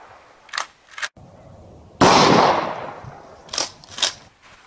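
A 12 gauge shotgun fires a single Estate 00 buckshot shell outdoors, a loud blast with a decaying rumble, framed by smaller sharp clicks and clacks before and after.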